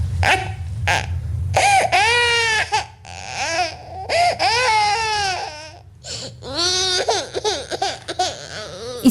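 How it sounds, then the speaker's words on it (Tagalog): Baby crying in a Filipino radio drama, loud, close wailing in repeated rising and falling bursts with short breaths between them, alone without talk. "Kakaiba na kasi ang iyak ng sanggol."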